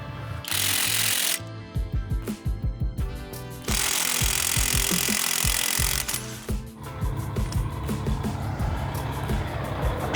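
A Dnipro-M DTW cordless impact wrench works a wheel nut on a Volvo in loud, sustained hammering bursts, broken by short pauses and stuttering rattles as the trigger is pulsed, close and alone.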